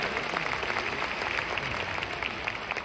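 Audience applause at a company gathering, a faint, steady patter of many hands clapping at a distance, continuous throughout.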